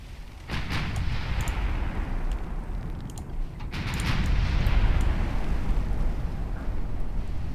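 Naval gunfire lands in a steady barrage during a warship battle in Ultimate Admiral Dreadnoughts: heavy continuous low rumbling with overlapping booms and a swell of louder blasts midway, dense and close, with no voices.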